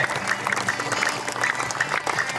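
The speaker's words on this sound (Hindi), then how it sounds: "और थोड़ी ताकत बढ़ाए तालियों में" An audience at a foundation gathering in Jabalpur breaks into loud, dense applause, with many hands clapping steadily and evenly for the whole stretch and no voices rising above it.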